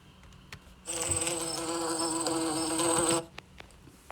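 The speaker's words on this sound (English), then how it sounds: "A bee flew past my face." A bee flies close past, its steady buzzing drone rising abruptly, holding for about two seconds and cutting off as it moves away, heard alone against a quiet background.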